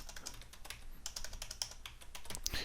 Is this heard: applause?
no